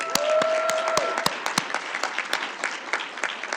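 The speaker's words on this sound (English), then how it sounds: "Can we give a round of applause for our students?" An audience at a youth-led school board candidate forum claps for students, a dense burst of applause with sharp individual claps, moderately loud and steady throughout, with a faint voice briefly at the start.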